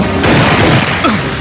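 A loud, dense blast in a Hindi-dubbed action film about a Jurassic crocodile, a roaring explosion that rumbles and crashes continuously throughout.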